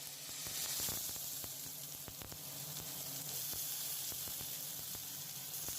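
Sliced onion sizzles in hot oil with mustard seeds, cumin and asafoetida, a loud continuous hiss peppered with frequent sharp crackles and pops, heard up close with no talking.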